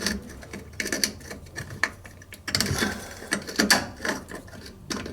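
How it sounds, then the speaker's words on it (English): A deburring tool scrapes metal burrs from a pipe end while a toilet shut-off valve is replaced, giving close, irregular rasping clicks and ratchety scrapes in uneven bursts. "It just gets off the little metal burrs, so we'll do that."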